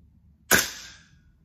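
A gas blowback airsoft rifle fires a single sharp crack in freezing cold around -14°C, followed by a short fading hiss of gas, close and loud against a quiet outdoor background.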